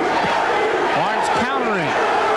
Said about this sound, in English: Crowd comes alive again for Barnes.